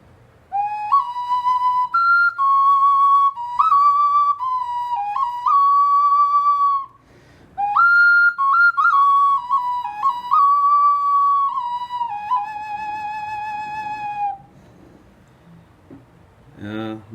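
A four-hole Mayan/Mexica flute, slightly larger than a similar one, plays a clear breathy melody of sustained and bending notes with a short pause midway, loud and close, with faint background noise and no talk.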